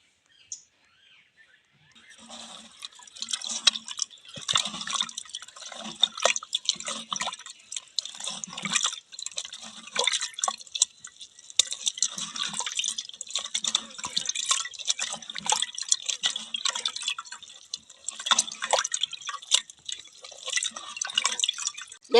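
A hand squeezes raw tamarind in water for rasam, making close, irregular wet squishes and drips that continue steadily for about twenty seconds after a quiet start.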